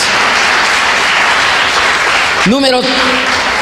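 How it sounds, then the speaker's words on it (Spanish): Congregation applause during a church sermon on the resurrection; a continuous wash of clapping fills the room, with a brief rising tonal sound near the end. "Regálele un aplauso al que vive por los siglos de los siglos"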